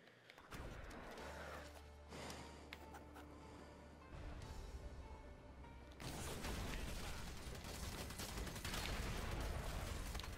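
An automated turret fires in the multiplayer video game Drawn to Death, a dense continuous burst of rapid gunfire that grows louder and harsher partway through, with mechanical whirring underneath.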